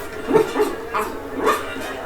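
A dog in a retro 80s–90s PC adventure game lets out three short, yappy barks spaced about half a second apart, fairly close and clear with no talk.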